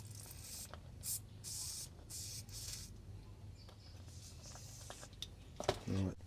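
WD-40 sprayed in short hissing bursts while working on a V12 two-stroke Detroit Diesel dump truck, several brief spritzes spread across the clip, moderately close, over a low background hum.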